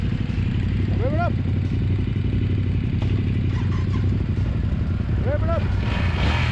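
Motorcycle engine running steadily on a group ride near Lake Somerville, a loud close rumble that swells briefly in two short revs, with wind noise and a faint voice under the engine.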